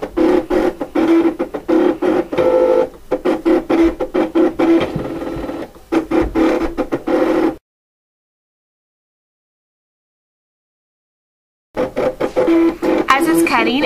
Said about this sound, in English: And our Cricut will start cutting.